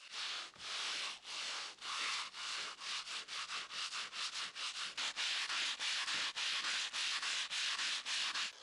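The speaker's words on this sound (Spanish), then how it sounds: "pasé una llana y papel de lija por la superficie de la primera hilera para nivelarla" Rhythmic hand sanding with sandpaper on the first course of aerated concrete block masonry, repeated back-and-forth rasping strokes that speed up and stay steady, close and alone.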